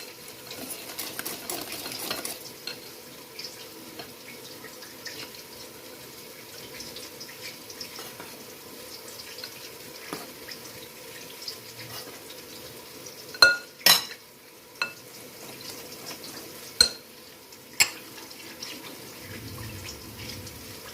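Wheat flour halwa stirred in a pan, a soft continuous scraping and stirring texture with a few louder spoon clinks and knocks near the end, close and fairly quiet, with no talk.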